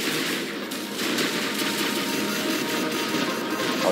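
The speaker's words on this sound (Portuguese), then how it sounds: "Ó, os caras já estão usando o tiro orbital." Orbital strike gunfire in the PC video game War Robots, a dense, roaring fusillade of blasts and crashing impacts that runs continuously and loudly with no pauses.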